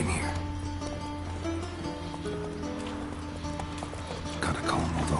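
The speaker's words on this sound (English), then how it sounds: "Gotta calm all the horses before they wake the guards." Horses in The Witcher 3 video game snort, whinny and clop their hooves in a stable, layered over steady game music and ambience, close but fairly quiet.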